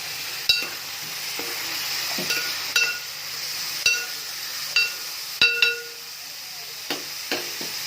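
Chopped onions and green chillies sizzle in hot oil in a pan, a steady frying hiss broken by several sharp clinks and stirring knocks of a utensil against the metal.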